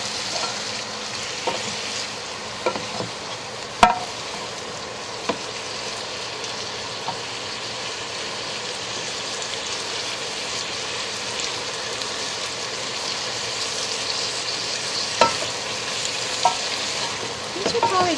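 A large batch of vegetables stir-fried over raised heat in a wok for sweet and sour pork, a steady dense sizzle with occasional sharp clinks and stirring scrapes, no talking.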